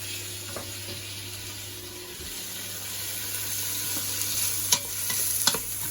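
Meat browning in a pan for a hotpot, a low steady sizzle with a faint hum underneath and a couple of brief clinks near the end, no speech.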